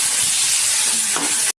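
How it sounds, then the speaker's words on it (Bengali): Eggplant with chili is stirred in a hot pan, making a brief, loud, even hiss of sizzling with a faint scrape near the end. "লঙ্কা দিয়ে বেগুনটা নাড়াচাড়া করে নেবো একটু।"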